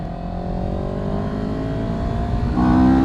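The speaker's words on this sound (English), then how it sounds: "We're off on CFMoto's CL-X 700 Sport." CFMoto CL-X 700 Sport motorcycle engine pulling steadily under acceleration, a continuous close drone with rising harmonics and a louder surge near the end as revs climb.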